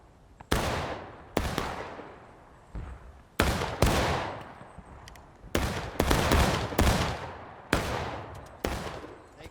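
Rifle volleys ring out in War of Rights, a Civil War battle at Harper's Ferry: about nine loud, sharp cracks at irregular intervals, each trailing into a long echoing decay, with little speech.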